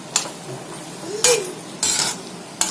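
Eggs are stirred in a frying pan: four or five separate scraping strokes of a utensil against the pan, close and moderately loud, with faint sizzling between them and no talk.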